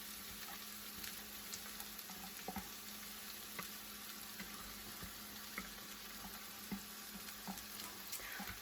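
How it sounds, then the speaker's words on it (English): Onions sizzle steadily in melted butter in a pan, a soft continuous fry with faint crackles and no talking. "My butter is now melted. I'm gonna put in my onions."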